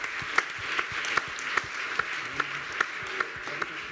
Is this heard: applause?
yes